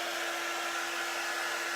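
A low-temperature quick dry tool blows steady heat over a fuzzed transfer, giving a continuous, even whoosh like a hair dryer, close and uninterrupted for the whole stretch with no talking.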